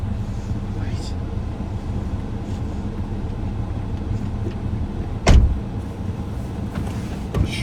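A cheap used Chevrolet Spark hatchback being driven, with a steady low engine and road rumble throughout, a sharp thud midway, and a voice talking faintly over it.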